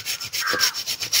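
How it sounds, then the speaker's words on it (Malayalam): A hand pruning saw cuts through a tree branch in quick, rhythmic back-and-forth rasping strokes, about six close, loud pushes and pulls. "ഇത് എളുപ്പത്തിൽ നമ്മുടെ മരങ്ങൾ ഇതേപോലെ കട്ട് ചെയ്യാൻ പറ്റുന്ന ഒരു ടൂള്"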